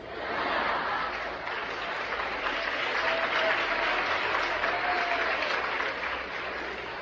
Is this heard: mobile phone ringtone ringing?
no